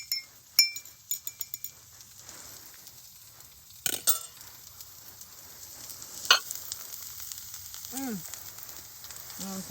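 An egg frying on a barrel wood stove inside a hot tent, a faint steady sizzle underneath a few sharp clinks and knocks of cookware near the start and middle, close, with no voices.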